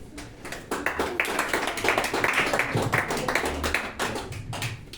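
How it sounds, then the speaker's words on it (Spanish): A church congregation applauding together in a steady, moderately loud round, with voices and cheers mixed in throughout. "Vamos a darle un fuerte aplauso a ustedes"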